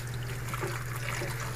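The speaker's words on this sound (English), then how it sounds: "just start filling this thing with water" Tap water runs into a bowl of mushrooms in a kitchen sink, a short steady trickle and splash over a low electrical hum.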